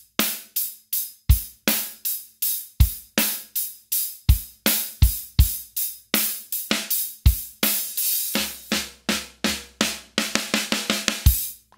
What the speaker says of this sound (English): he comes over here and plays on the floor tom and the snare drum and builds it up.